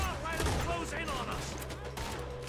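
Rapid gunfire in a Red Dead Redemption 2 gang shootout rattles on steadily as a sustained volley of shots, with someone talking over it throughout.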